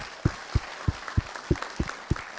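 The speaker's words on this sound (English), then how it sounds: "Let's give her a round of applause" An audience at the 2017 International Space Camp opening ceremony in Australia claps in steady unison, about three sharp beats per second, over a continuous background hum of the hall.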